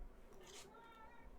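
Cat in the Neo-Scavenger game giving a short meow over low background hum, with a voice heard briefly.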